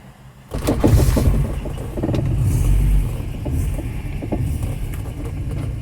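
A Volvo 240 running on E85 ethanol fires up on a warm day and pulls away, its engine catching with a loud burst and then settling into a steady, close drone as the car drives off, with no talking over it.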